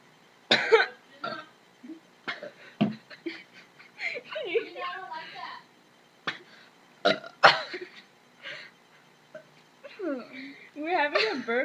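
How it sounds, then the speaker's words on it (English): Repeated burps in a burping contest, several loud close eructations with coughing and throat-clearing noises between, some long and gurgling, mixed with brief voices. "We're having a burping contest."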